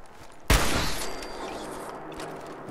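A single loud gunshot in Fallout 4 during slow-motion shooting, with a sharp attack and a long, slowly fading boom and ring.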